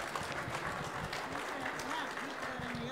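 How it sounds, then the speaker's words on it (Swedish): Audience applause at a Swedish panel discussion on Hungary under Orbán, a steady wash of clapping throughout while a voice speaks over it. "en applåd. Kom igen."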